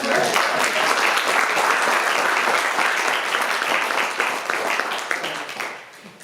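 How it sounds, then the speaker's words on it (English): An audience applauds loudly and continuously after a lecture on the USS Monitor, the clapping holding steady for several seconds before tapering off at the end. "a round of applause"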